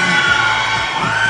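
A crowd at a male pageant's question-and-answer round in San Manuel, Tarlac shouts and cheers loudly and continuously throughout, with whoops and yells blending into a dense, steady roar.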